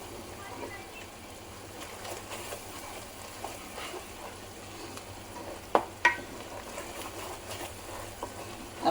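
Konkani masala chicken and cashew gravy is stirred in a pan, a continuous soft sizzle and scraping with a couple of sharp clinks of the spoon against the pan.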